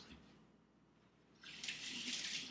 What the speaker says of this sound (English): I always love to rinse my hands when I'm cooking